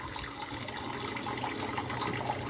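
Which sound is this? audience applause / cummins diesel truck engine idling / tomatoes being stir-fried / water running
water running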